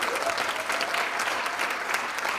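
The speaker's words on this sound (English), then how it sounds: "we have to give a round of applause to the technicians who have worked hard to make sure that everything is running properly" A keynote audience applauds the event's technicians with a dense, even round of clapping from many hands, held at a moderate level without letting up, no voices standing out.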